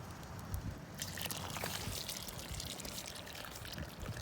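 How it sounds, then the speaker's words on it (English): Maple sap, boiled down from backyard collection, is poured into a pot, giving a steady splashing, trickling liquid sound that runs continuously at moderate volume with no voices. "so I'm gonna pour the rest in"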